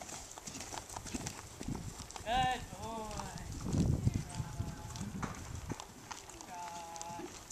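Horse hooves clip-clop in a steady rhythm on the ground during long lining, close by, while a person speaks softly and birds chirp in the background.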